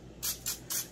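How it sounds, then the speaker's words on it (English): Cooking oil spray hisses onto the tops of raw pork chops in a pan in three short, close bursts before baking. "I'm actually going to spray the top of them."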